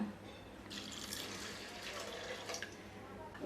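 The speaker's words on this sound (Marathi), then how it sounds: "आता यामध्ये आपण पाणी घालूया" Water is poured onto washed urad and masoor dal, a soft continuous splashing and trickling that swells briefly then settles, close but quiet, with no talking.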